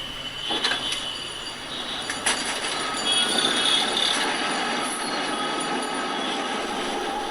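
A tram car pulls away in a city street, its steel wheels rumbling and squealing on the rails with a steady rolling clatter, loud and close, no voices.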